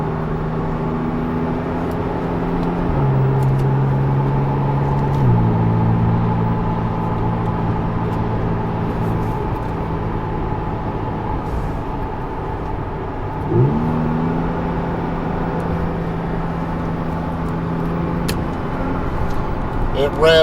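A Porsche 911 Turbo S engine pulling hard and steady from inside the car, pitch climbing then stepping down at several quick gear shifts, loud and continuous with no talk.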